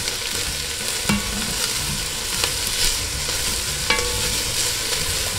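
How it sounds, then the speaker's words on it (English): Chopped onion sizzles in a hot pan for a vodka-sauce stuffed shells dish, a steady broadband frying hiss broken by a few sharp scraping clicks as a spoon stirs it, close and alone with no talking. "going to put the onion in first to give it a nice stir."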